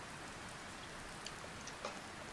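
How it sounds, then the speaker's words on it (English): Acid rain falls steadily in a camping video game, a faint, even patter of raindrops with a few slightly louder drops near the end and no talk. "Maybe it's the acid rain."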